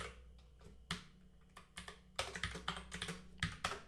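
Fast, uneven keystrokes on a computer keyboard during Python coding, with light clicks and a few heavier taps, close and clear with no talking.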